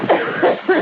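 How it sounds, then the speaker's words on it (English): Three short, loud bursts of human coughing about 0.3 seconds apart, close up in a kitchen setting, each a rough throaty rasp. "But the cough is coming back."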